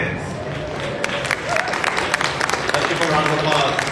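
Applause from an audience at the DesignBites design event during KBIS 2024 builds up after a brand showcase, with claps and crowd murmur rising under a voice talking through the room.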